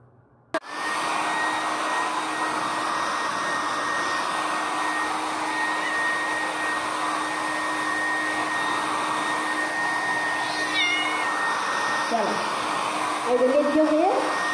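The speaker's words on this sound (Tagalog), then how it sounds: "Dito lang may mag-air dryer." A hair dryer blows steadily at close range after a brief quiet start, a continuous loud whooshing hum with a faint whine, while a dog is being bathed and a voice speaks softly near the end.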